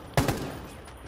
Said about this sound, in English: A lot of explosions going on.